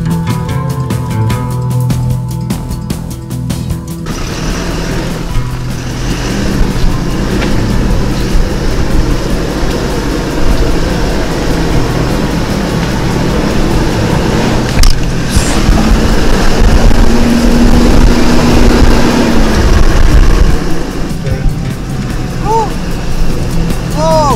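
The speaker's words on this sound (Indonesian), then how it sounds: "Ini betul-betul menuntut stamina mobil yang luar biasa. 4x4-nya juga full ini." A 4x4 car's engine labours loudly and continuously over a rough, slippery jungle road in Papua, with rumbling and shifting strain throughout and a voice talking over it.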